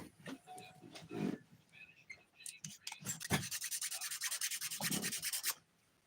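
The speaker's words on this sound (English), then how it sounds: "I'm also using the 180 grit side to shape the free edges right now" Fingernail edges being shaped with the 180 grit side of a nail file during a dip powder manicure, first scattered scrapes, then a close, steady run of quick rhythmic rasping strokes that stops abruptly.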